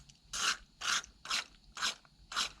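Carb cleaner sprays into the carburetor of a Ferguson 35 tractor in five quick, evenly spaced hissing bursts, close up and fairly quiet, with no voices.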